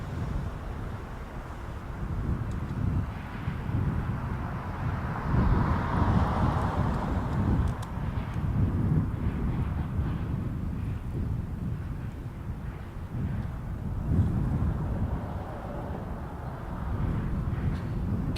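Cathay Pacific Cargo Boeing 747-8 freighter at Toronto Pearson, a steady low roaring engine rumble with buffeting wind noise, fairly loud and continuous throughout.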